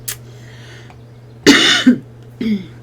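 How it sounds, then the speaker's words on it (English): A person with asthma and lung problems coughs close to the microphone, a harsh burst followed by two more coughs with short pauses between them, loud and alone. "I have asthma and I have a lot of coughing and lung problems"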